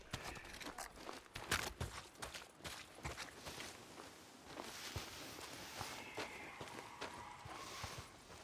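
Running footsteps of a character in the video game Days Gone, fast and uneven thuds of feet on ground, fairly faint over a light background.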